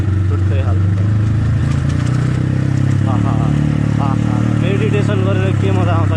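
A CX250R motorcycle engine runs hot and loud nearby, misfiring with irregular popping and rumbling under engine braking, a continuous throbbing drone while someone talks over it.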